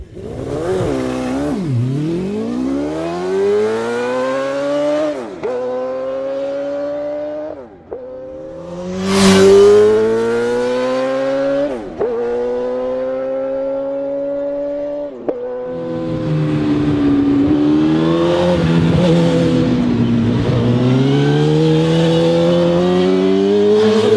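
A 2000cc DOHC 40-valve PGM V8 motorcycle engine revs hard and alone, climbing and dropping through repeated high-pitched surges with a sharp burst midway and a sustained loud wail at the end.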